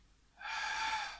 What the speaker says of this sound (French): Inspire.